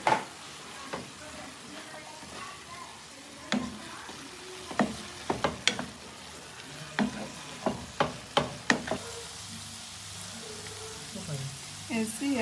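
Minced meat frying with carrots, chopped parsley and onions, a soft steady sizzle under sharp scraping and tapping stirring strokes in uneven clusters, close by, with a voice talking intermittently.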